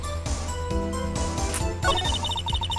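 A phone ringing in the Phoenix Wright Ace Attorney video game: a bright electronic ringtone with repeating beeps starts partway through, over continuous game music.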